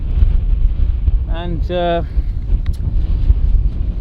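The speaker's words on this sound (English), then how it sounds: "things are pretty damn windy here in Stora Nassa" Strong wind buffets the microphone with a constant low roar at Stora Nassa in the Swedish archipelago, and a voice speaks briefly over it.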